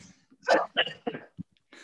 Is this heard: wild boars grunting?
no